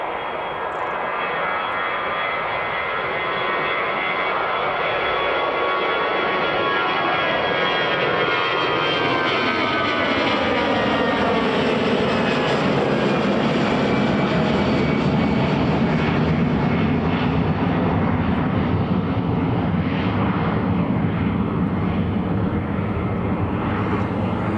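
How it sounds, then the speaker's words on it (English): An EasyJet airliner bound for Paris Charles de Gaulle on its takeoff roll at Edinburgh Airport, a loud, sustained jet engine roar that swells and shifts in pitch as it accelerates, with no talk over it. "this is EasyJet rolling, heading to Paris Charles de Gaulle"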